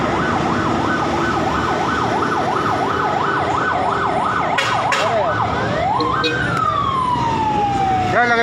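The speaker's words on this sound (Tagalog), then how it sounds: "Ito, may ambulansya na. May ambulansya, oh." An ambulance siren wails in a steady up-down pattern over heavy traffic noise at the scene of an accident jam, then shifts to a rising and falling yelp as it draws near, with a few brief horn blasts.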